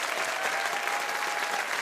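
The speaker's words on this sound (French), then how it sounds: "que je vous demande d'applaudir, s'il vous plaît" On a television show set, a studio audience gives the band a brief burst of sustained applause, a dense, even wash of many hands at steady volume.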